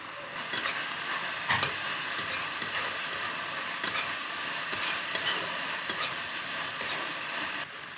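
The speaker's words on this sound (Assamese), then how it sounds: "মছলাখিনি দি লৈ 5 মিনিটমান লৰাই থাকিব লাগিব।" A utensil scrapes and clicks against a pan in an uneven rhythm over a steady sizzle as Malabar spinach leaves fry with spice mix and coriander.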